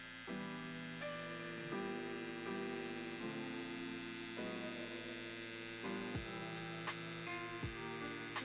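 A tattoo pen running with a Cheyenne 7 liner cartridge, a steady close electric hum with shifting pitch throughout and a couple of brief clicks near the end, alone with no voices.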